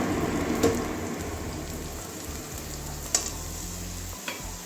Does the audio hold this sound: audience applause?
no